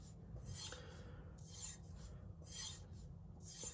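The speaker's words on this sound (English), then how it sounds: "I finish off this stone by doing just a few strokes to remove the burr." A knife is drawn across a Shapton Glass 1000 or 3000 sharpening stone to remove the burr, giving about four soft, rhythmic rasping strokes, quiet and close, with no talking.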